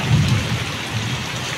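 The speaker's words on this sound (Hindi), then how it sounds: "बहुत तेज़ हो रही है बारिश।" Heavy rain pours down steadily in a village during a thunderstorm, with deep rumbles of thunder rolling underneath the dense, close hiss of the downpour.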